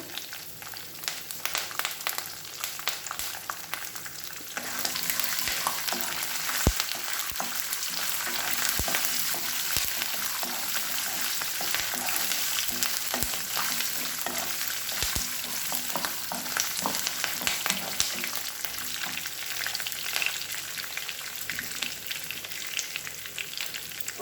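Green chillies and curry leaves fry in a pan for poha with a soft, continuous sizzle and occasional faint clicks of stirring, no voices.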